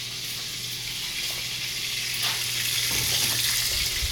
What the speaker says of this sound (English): I'm finna try to drop this before my bacon finished frying.